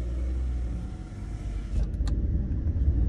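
Tata Nexon and Hyundai Exter CNG cars roll and accelerate side by side in a drag race, a steady low engine rumble building slightly louder toward the end, with a couple of brief higher clicks midway and no talk.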